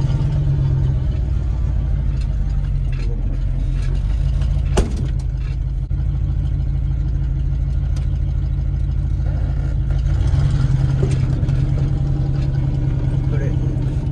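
Pickup truck engine idling with a deep, steady low rumble that carries unchanged throughout, loud and close, with faint brief knocks and no speech over it.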